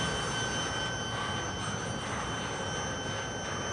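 A CSX freight train rolls past close by, a steady loud rumble of wheels and cars with faint high squealing tones, continuous for the whole stretch.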